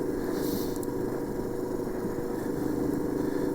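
A Royal Enfield Himalayan 400cc motorcycle cruises on a highway, giving a loud, unbroken roar of wind and road noise with a low engine drone underneath, steady throughout.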